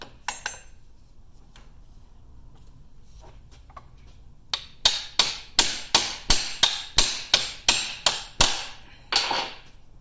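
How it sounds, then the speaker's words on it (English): A hammer strikes a U-joint cap out of an ATV yoke in a steady run of about a dozen sharp metallic blows, close and loud, after a few lighter taps. "You can see as I'm hitting that the cap is starting to protrude from the yoke."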